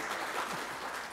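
Audience applause at a college's 2022 State of the College address, a brief, even wash of many hands clapping at moderate volume.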